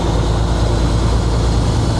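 A heavy truck engine, compared to a bread truck, rumbles steadily at close range with a loud, continuous low drone and no talk over it.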